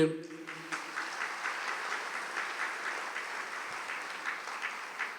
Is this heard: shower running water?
no